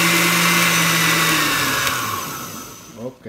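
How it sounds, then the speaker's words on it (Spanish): Close, loud, steady whirring motor of a blender puréeing cantaloupe for agua de melón, fading and winding down at the end. "Y lo vamos a poner a licuar."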